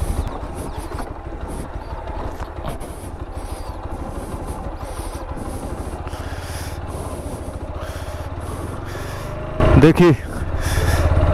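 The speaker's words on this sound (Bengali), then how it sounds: "মোটরসাইকেল স্টার্ট নিয়েছে।" A TVS Apache RTR 160 4V double-disc motorcycle idles after starting, its engine a steady low, throbbing rumble close by, with a brief louder burst near the end and a voice speaking briefly.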